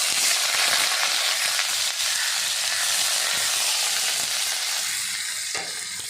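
Sliced onions sizzle and fry loudly in hot oil with mustard seeds and urad dal for a South Indian ivy gourd dish, a steady broad hiss with occasional stirring scrapes, close and uninterrupted.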